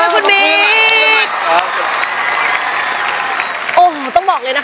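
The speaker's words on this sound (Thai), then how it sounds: "ขอเสียงปรบมืออีกครั้งคุณนายและคุณบิ๊ก" Audience applause and cheering at a live Thai shopping game show, a steady crowd clatter running beneath loud, animated voices that rise and fall over it.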